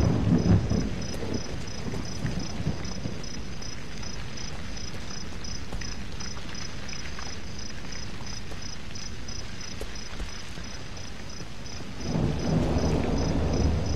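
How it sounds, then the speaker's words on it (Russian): In the Cry of Fear forest game level, steady rain falls with rumbling thunder throughout, a constant wash of noise that swells again near the end. "Дождик пошел"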